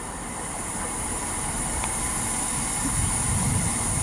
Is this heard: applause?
no